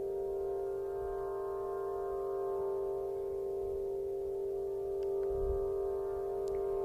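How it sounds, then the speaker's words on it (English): Aeolian wind harp played by the wind in the center of Stonehenge on a summer solstice, sustaining a steady, shimmering drone of layered string tones with low wind rumble beneath. "what you're hearing is an Aeolian harp, wind harp, placed in the center of Stonehenge on a summer solstice"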